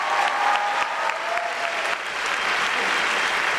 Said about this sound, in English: let's give a big round of applause to all of our presenters tonight for the Kelley Awards